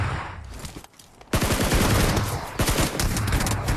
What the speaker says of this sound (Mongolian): Хоёр давхраас буудлаа намайг.